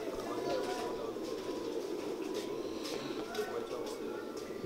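Kamal pigeons cooing softly and steadily, a low continuous murmur of several birds close by, with faint background noise and no speech.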